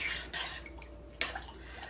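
A spoon stirs a pot of dressing, giving a few soft scrapes and light metallic clinks against the pot over a low background hum, with a sharper clink about midway.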